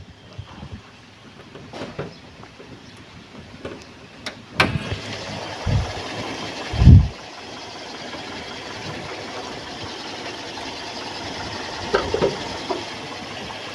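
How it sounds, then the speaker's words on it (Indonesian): A 1997 Toyota Kijang LGX engine idles smoothly and steadily at close range, with a few light clunks and a brief thump partway through the low, even hum. "memang mesinnya suara langsamnya masih halus, masih enak"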